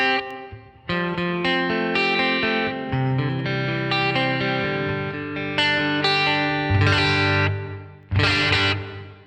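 Electric guitar played through a Headrush nonlinear reverb with the mix turned up, sustained chords and notes swelling into a dense, washy reverberant tail with a delayed bloom, loud and alone.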